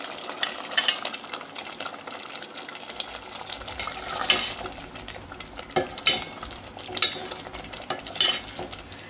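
A spoon stirs fried eggs into a masala gravy in a pan for a restaurant-style anda masala, giving repeated scraping and clinking strokes over a soft sizzle, close and moderately loud, with no talking.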